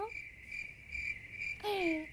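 Crickets chirp steadily in a repeating high trill, taken as an early sign of autumn, heard alone and fairly close with no voices. A brief brighter birdlike whistle joins near the end.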